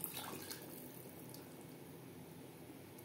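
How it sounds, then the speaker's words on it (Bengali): Water used to rinse spices is poured into a pot of mutton cooking for biryani, a faint, steady soft splash and hiss after a small initial spill. "মশলা ধোয়া জল অ্যাড করলাম।"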